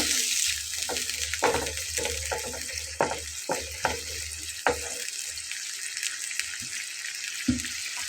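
Water splashes into a hot pan of frying ground spices, hissing and sizzling steadily, with scattered clinks and stirring knocks throughout.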